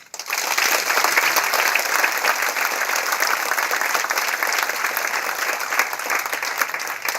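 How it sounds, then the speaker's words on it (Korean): A lecture audience claps after a talk on blockchain and the fourth industrial revolution, a dense, loud, even wash of applause that lasts about seven seconds. "오늘 귀한 시간 내서 뜻깊은 강의해 주신 의원님께 다시 한번 큰 박수 부탁드립니다."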